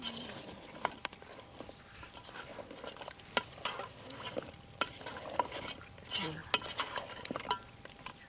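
Ginger paste being stirred into a country chicken curry in a pot, with irregular scrapes and sharp clinks of a spoon against metal over a low simmering hiss.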